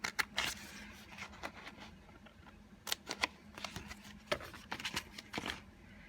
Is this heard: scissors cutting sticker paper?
yes